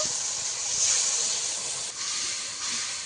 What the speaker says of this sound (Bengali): আবারও ভালো করে কষাতে হবে যতক্ষণ না তেল ছাড়ে।